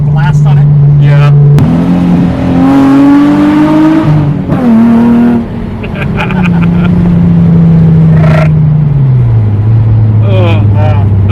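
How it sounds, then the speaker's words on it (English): A JDM engine-swapped Nissan 350Z revs loudly up and down, its roar echoing in a tunnel, with brief voices heard over it. "the 350Z, revered for its great sound"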